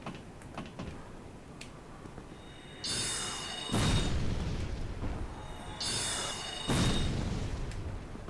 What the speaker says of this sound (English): A single firebomb from that guy.